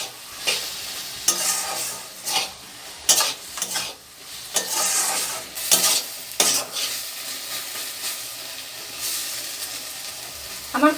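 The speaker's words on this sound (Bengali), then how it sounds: "এখন আমি কচুটাকে কষিয়ে নেব 7 মিনিটের মতো" Taro (kochu) being stir-fried in a pan, with a spatula scraping and stirring in repeated bursts over a steady sizzle, close and fairly loud.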